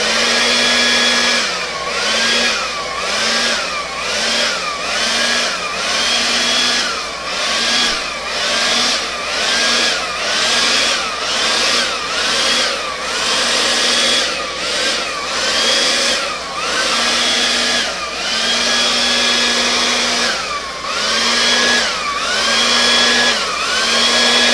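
A loud motorized blower runs steadily, pushing paint across an acrylic pour canvas, its whine rising and dipping in repeated pulses as it sweeps back and forth, close up and alone.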